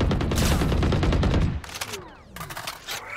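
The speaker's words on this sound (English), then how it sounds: "Placing swarm grenade." A burst of rapid, overlapping explosive pops from a swarm grenade ability in Valorant, dense and loud for about a second and a half, then scattered sharper cracks and fizzing tails.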